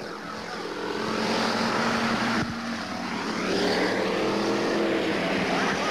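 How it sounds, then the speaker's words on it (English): Street stock race cars on a 1988 oval track at Big Diamond, several engines roaring loudly and steadily down the back straight as the cars pass close by in a continuous blended drone. "Charlie Eichenberg closes the gap, but as they go down the back straight, Krzyjarzyk opens up his lead once again."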